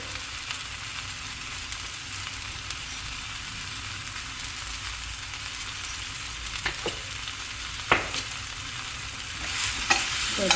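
Tomato and coriander chutney ingredients frying in a pan with turmeric and salt, a continuous low sizzle with scattered clicks and stirring knocks, growing a little busier toward the end; no talking.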